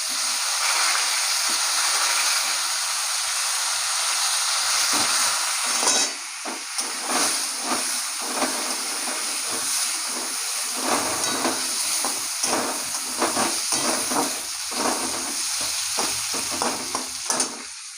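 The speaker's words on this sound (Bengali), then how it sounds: "এখন আমি পটল আর ঝিঙেগুলো ভেজে নেব।" Pointed gourd and ridge gourd pieces frying in a pan, a loud continuous sizzle that turns choppier partway through as a spatula stirs and scrapes them repeatedly, close up with no talking.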